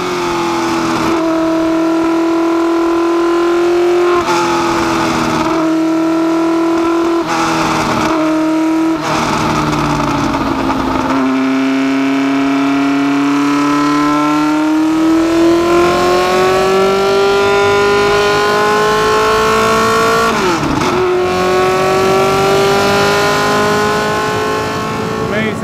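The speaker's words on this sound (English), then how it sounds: "having a look at this amazing track at the historic Silverstone circuit in a car, the 4-wheel drive McLaren M9A" A 1969 McLaren M9A four-wheel-drive race car at Silverstone circuit, its engine droning loud and close throughout, pitch dipping with gear changes and rising steadily as it accelerates down the straight.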